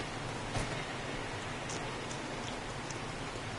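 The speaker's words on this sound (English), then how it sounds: "Well, no shit, I'm fucking wet. It's raining." Steady rain falling in the video game 7 Days to Die, an even, faint patter and hiss on surfaces throughout, with no voices.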